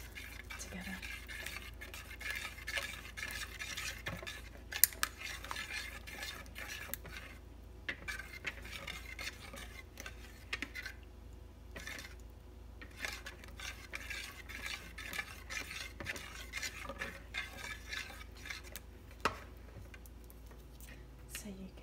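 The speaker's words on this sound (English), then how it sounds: "So you can see that all the egg, oil, and water is mixed all together." Egg, oil and water mixture stirred in a bowl for baking, a steady run of close scraping and clinking strokes with brief pauses, soft and intimate with no talk.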